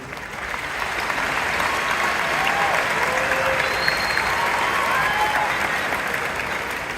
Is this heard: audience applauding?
yes